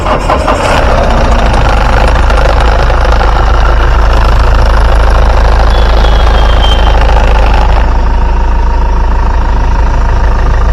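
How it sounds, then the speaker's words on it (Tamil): A low-budget used car engine idles loudly and steadily up close, a constant low rumble with a rattling mechanical texture throughout. "வாங்க வண்டியோட இன்ஜின் சவுண்ட் எப்படி இருக்கு அப்படின்றத கேட்போம்"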